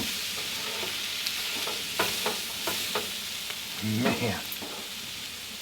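Sausages and onions fry in a pan, a steady close sizzle with occasional stirring scrapes and clinks, and someone speaks briefly over it.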